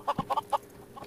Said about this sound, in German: Hühner!